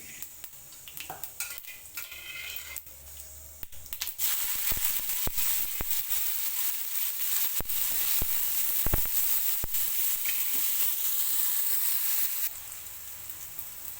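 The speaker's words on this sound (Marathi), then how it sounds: "थोडं मोहरी टाकली थोडं जिरं टाकलं तर त्याची फोडणी करून छान छान अशी" Mustard seeds and cumin tempering in hot oil for a Marathi home breakfast: a steady loud sizzle swells after a few seconds, broken by sharp crackles and pops, then eases slightly near the end, with no talking.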